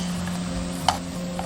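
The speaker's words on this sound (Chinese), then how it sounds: "煎至一面金黄过后翻面" Ginger pancake frying in a pan, a low steady sizzle with a sharp clink from a spatula as it is turned.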